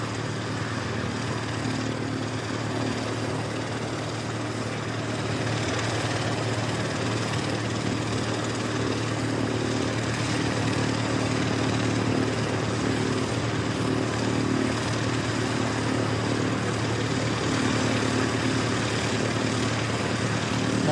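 Singapore Airlines flight 297 airliner at Christchurch Airport, a steady broadband engine roar holding at a constant level throughout, with a faint voice underneath.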